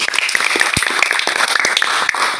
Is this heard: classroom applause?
yes